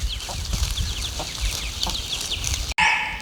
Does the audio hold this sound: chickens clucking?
yes